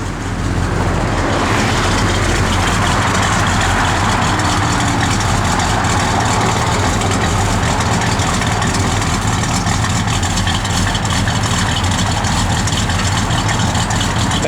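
The engine of a 1969 Plymouth Road Runner idles with a loud, steady, rumbling low drone that continues unbroken throughout.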